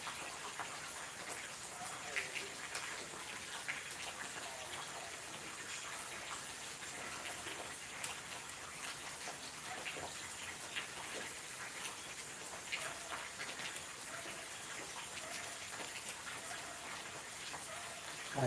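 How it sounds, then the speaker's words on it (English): Steady, soft rain patters continuously with scattered drips and ticks, quiet and even throughout, with no voices. "I say night rain"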